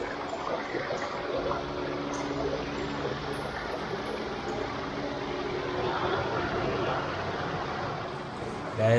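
Waterfall water pours steadily over rocks on the Kota Ganga trail in Sri Lanka, a continuous broadband rush that stays close and even throughout with no speech.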